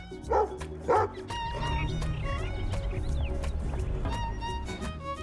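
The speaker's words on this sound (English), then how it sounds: "What's with the neighbor's dog?" A neighbour's dog near a cabin gives two loud, close barks early on, then the scene fills with a steady mix of outdoor noise and voices.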